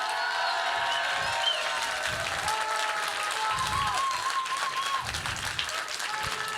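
An audience at a ceremony applauds steadily, a dense even wash of clapping that holds at full strength throughout, with occasional faint crowd noise beneath it.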